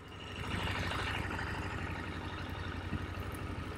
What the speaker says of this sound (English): Now, the stock exhaust, it does sound like a scooter.